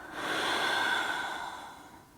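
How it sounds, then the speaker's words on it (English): A deep inhale swelling into a long, audible exhale during a yoga flow, close and breathy, with no talking over it. "Big breath in. And a big exhale."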